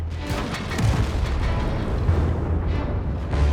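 A tank cannon firing premium shells in a tank battle video game, heavy booming reports over a constant rumbling engine and battle din, with several deep thuds close together.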